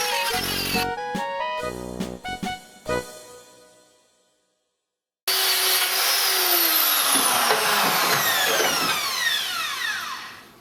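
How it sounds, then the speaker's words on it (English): A die grinder smooths and flattens the face of a weld in a workshop, rising to a loud, steady high-pitched whine with wavering pitch after a brief pause and earlier metallic clanks. "I'll give it a little tickle with a die grinder."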